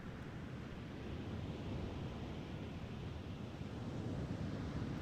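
Ocean waves wash in a continuous, soft broadband rush with gentle swells and no distinct breaks, heard faintly and evenly from a distance.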